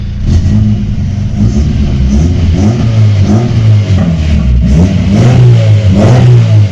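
A VAZ 21099 car engine runs loudly nearby, rising and falling as it revs, with a rough mechanical rumble throughout.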